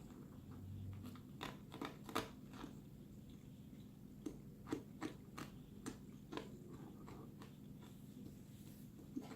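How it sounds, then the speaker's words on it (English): Close, quiet wet chewing of wild berries, with a steady run of small crunchy bites and squishes spread across several seconds and no talk. "You're gonna chew it up."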